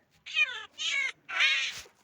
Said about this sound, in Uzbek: Mushuk.